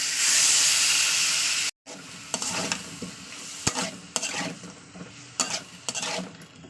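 Lata fish curry being stirred in a pan after a splash of water and green chilies, with a steady loud sizzle and hiss that cuts out briefly, then returns quieter with repeated scraping strokes and occasional clinks.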